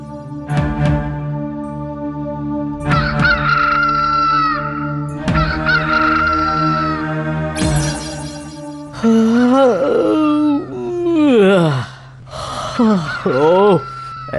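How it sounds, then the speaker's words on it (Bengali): A rooster crows several times in a row, long harmonic calls that rise and fall, loud and close. "মোরগটা ঠিক সময় একেবারে ঘুম ভাঙিয়ে দিয়েছে"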